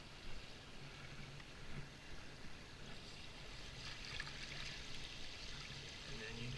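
A submerged pool vacuum hose releases its trapped air underwater, giving a soft continuous bubbling and trickling close by that stays fairly faint and steady throughout.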